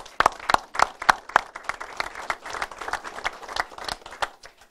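A small group applauds at a governor's address on opioid abuse, the claps sharp and distinct, starting with a few loud individual claps and settling into thinner, scattered clapping that tapers off.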